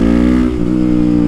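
A supermoto motorcycle engine revs hard and close through a wheelie, a loud, dense, buzzing drone with a brief dip midway before it climbs again.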